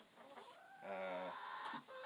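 Chickens cluck softly in their run, a rising, drawn-out call coming through between quieter clucks at moderate distance with no talking.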